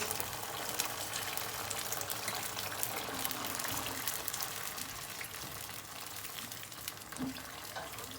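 Tomato paste sauce thinned with water and a little salt bubbles in a pan, a steady hissing simmer with soft gurgles and faint pops, close and continuous with no voices.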